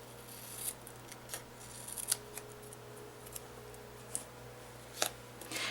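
Scissors cut through stacked paper cards, giving sharp, crisp snips at irregular intervals, close and fairly quiet over a low steady hum.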